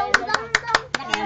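Hand claps, about six sharp claps in a steady rhythm, close and fairly loud, with voices faintly in the background.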